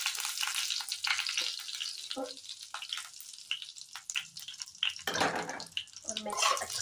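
Seeds and curry leaves roast in a pan for South Indian style upma, giving a close, steady crackling sizzle with scattered pops and a louder burst of frying late on.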